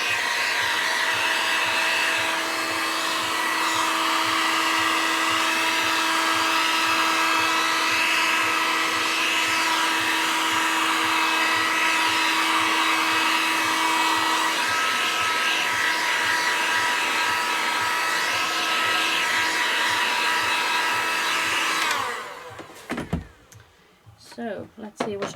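A hair dryer blows on a Halloween mixed media art page, a loud constant whooshing drone with a steady motor whine running for over twenty seconds before it switches off abruptly.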